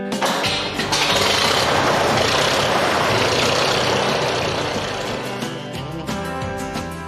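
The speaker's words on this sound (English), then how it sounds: "Crank up the engines." Classic tractor engines, among them a Mini Mow, a Case DC and an International, running together in a dense, loud mechanical roar with low chugging and steady rattling throughout, no speech over it.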